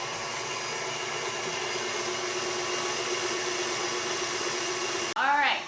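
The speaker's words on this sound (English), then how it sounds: "So our egg whites and yolks and sugar and everything is mixing over in the mixer." A stand mixer with a whisk attachment beats egg whites, yolks and sugar in a steady, loud motor whir that holds unchanged, then stops abruptly as a voice begins.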